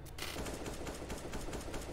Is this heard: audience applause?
no